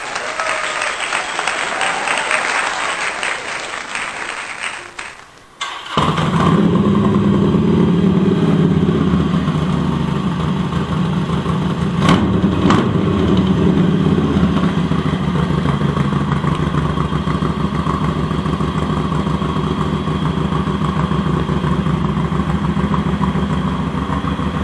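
A Harley-Davidson Superlow motorcycle engine fires up after a few seconds of broadband hiss, then settles into a loud, steady, close rumbling idle that runs on to the end.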